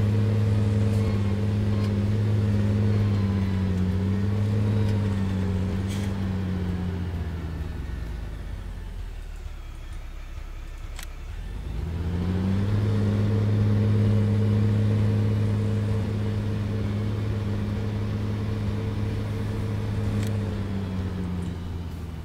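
Vehicle engine in the game Irgendwo in Thüringen drones steadily at low pitch, dips briefly as it drops off mid-drive, then picks back up to a constant rumble, with no talk.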